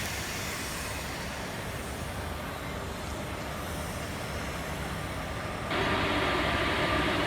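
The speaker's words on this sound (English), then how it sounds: "here the Kalyan WCAM3 coming in for the coupling with our train" A Kalyan WCAM3 electric locomotive rolls in to couple with the Udyan Express rake, a steady low rumble of railway running noise that swells louder near the end.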